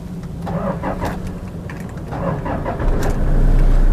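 A 2016 Toyota Hilux Vigo Champ GX pickup truck engine cranks and catches, then settles into a steady idle that grows louder and deeper toward the end; no talking.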